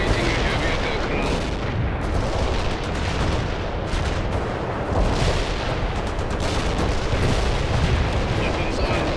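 Mi-24 helicopter attack run in the real-time strategy game World in Conflict: continuous heavy gunfire and booming impacts roll on without pause, loud and dense throughout.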